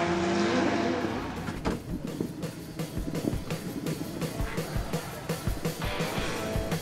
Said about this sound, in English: Bradley jumps back into the Corvette once more